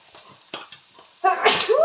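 A single loud, close sneeze bursts out near the end after a few quiet kitchen sounds and soft breaths.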